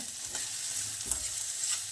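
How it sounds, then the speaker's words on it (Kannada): Ingredients for holige saaru, a Kannada lentil broth, fry and sizzle steadily in a pan with light stirring scrapes, close and moderately loud, no voices. "ಇವೆಷ್ಟನ್ನು ಹಾಕಬೇಕು ಹಾಕಿ ಸ್ವಲ್ಪ ಫ್ರೈ ಮಾಡ್ಕೋಬೇಕು"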